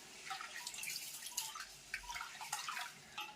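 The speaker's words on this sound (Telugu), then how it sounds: "జస్ట్ ఒక 2 సార్లు ఇలా పిసక్కండి" Rice grains washed by hand in water make faint, close sloshing, dripping and splashing in small irregular bursts.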